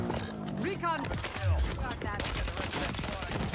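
MAC-10 submachine gun fire in Call of Duty on Rebirth Island, quick bursts of rapid shots crackling beneath an excited voice talking over game sounds.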